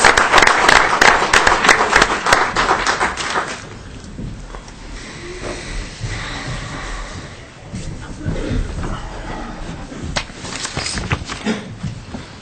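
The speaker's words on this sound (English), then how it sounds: "let's give everybody a round of applause" Applause at a city council meeting, a burst of clapping from the room that is loud at first, then drops away within a few seconds into quieter room noise and murmuring voices.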